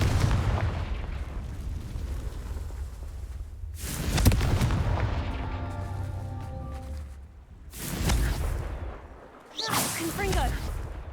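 Confringo explosive spell blasts in Hogwarts Legacy: three or four booming, whooshing bursts that land with deep rumbling impacts, with a ringing, magical tonal shimmer between them.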